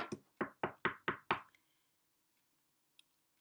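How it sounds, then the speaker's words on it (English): Knocking on a door as a storybook sound effect: five sharp, evenly spaced raps close up, then silence apart from one faint tap near the end. "The wolf reached grandmother's house first and knocked on the door."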